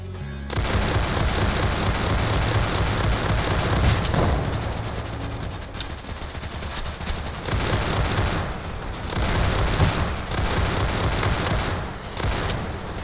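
Burst-fire sniper rifle shooting in the Roblox game Zombie Uprising, a dense, loud rattle of rapid shots running in long clustered volleys with brief dips between them, no voices over it.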